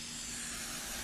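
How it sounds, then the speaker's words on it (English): Aerosol brake cleaner sprays onto an old aluminum intake manifold from a Chevelle SS454, a steady close hiss lasting about a second with no pauses. "we're just going to try to wash some of this junk off with the brake clean"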